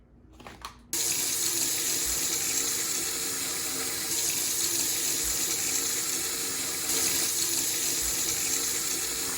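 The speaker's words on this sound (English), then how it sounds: "we got our water up to that 10-liter mark" Water pours steadily into a sous vide container for cooking sirloin steak, filling it toward the 10-liter mark. After a brief rustle at the start, a continuous, close splashing rush runs unbroken to the end.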